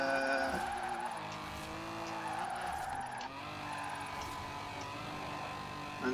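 A car drifting in Forza Horizon 4, with sustained tire squeal and skidding over a steady engine drone, continuous and moderately loud throughout.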